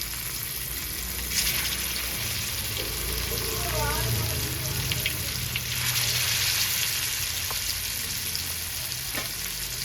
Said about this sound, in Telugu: ఆయిల్ వేడెక్కిందండి. ముందుగా కలిపి పెట్టుకున్న చేప ముక్కల్ని వేసుకుంటుందా.